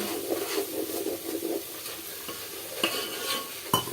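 A spoon stirs chilli powder and spices into a pan of korameenu fish pulusu, with repeated scraping strokes over a soft sizzle, close and clear, with no talking.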